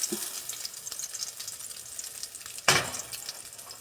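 Salmon croquettes fry in oil in a pan, a soft steady crackle and hiss with a sudden louder sizzling burst near the end.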